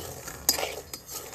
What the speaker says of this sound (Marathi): कंटिन्यू हलवायचं असं